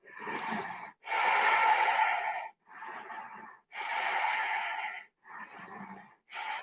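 Deep yogic breathing during a held seated pose, slow audible inhales and exhales with a whooshing, slightly throaty tone, about five long breaths in a regular rhythm, close to the listener with no talking.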